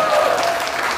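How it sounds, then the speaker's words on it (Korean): Wedding guests give the bride and groom a brief burst of dense, steady applause that fills the room. "축복의 박수로 보답해 주시면"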